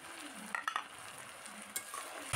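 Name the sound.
tomatoes and bay leaf frying with spice paste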